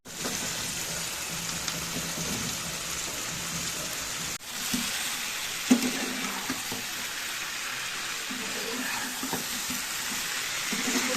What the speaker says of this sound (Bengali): ফুলকপি আর আলুটা দিয়ে মশলা দিয়ে ভালো করে কষিয়ে নিচ্ছি।